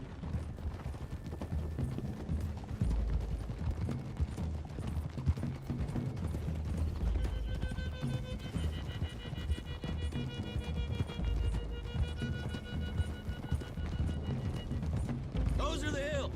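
Horses' hooves clip-clop steadily along a road in Red Dead Redemption 2, a continuous rhythmic trot from several riders. Voices talk over it, and a faint mechanical rattle runs underneath.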